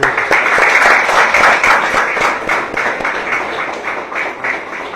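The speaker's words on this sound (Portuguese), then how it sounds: "Salve de palmas." Church congregation applauding after a prayer, a steady, dense wash of many hands clapping that stays loud throughout and eases slightly toward the end.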